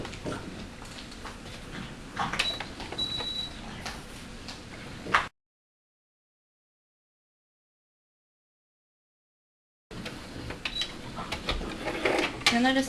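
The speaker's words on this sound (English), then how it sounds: "You'll notice that I'm back stitching the last maybe 5 stitches." Sewing machine back stitching the final few stitches on fabric for a sugar glider pouch, a close mechanical whir and rapid ticking, broken by a long stretch of silence before the stitching resumes.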